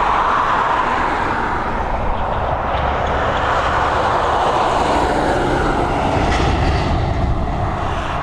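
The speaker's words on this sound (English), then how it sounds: "We've got an American Dreamliner on its way towards us down the taxiway here at runway 10R this afternoon as well." An American Airlines Boeing 787-8 Dreamliner taxiing toward runway 10R at Dublin Airport, a steady, broad jet-engine roar that holds at a constant level throughout, with no talk.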